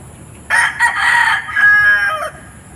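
A gamefowl rooster on a gamefarm gives one full crow lasting about two seconds, fairly close and clear against a quiet background.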